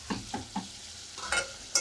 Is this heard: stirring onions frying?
yes